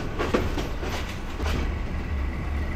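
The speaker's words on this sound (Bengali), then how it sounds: "এই যে ময়মনসিংহ রেলওয়ে স্টেশনে ঢুকতেছে আমাদের ট্রেন।" A night passenger train rolls into Mymensingh railway station, a loud, close, steady rumble with rhythmic wheel clatter over the rails.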